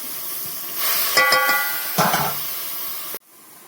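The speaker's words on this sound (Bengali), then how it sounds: "ঢেলে দিয়ে নাড়িয়ে একটু ভেজে নেব।" Small prawns or fish stirred and fried in a pan give a rising sizzle with scraping strokes from a utensil, then the sound cuts off abruptly near the end.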